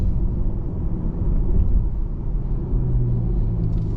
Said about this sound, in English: There's even a decelling noise.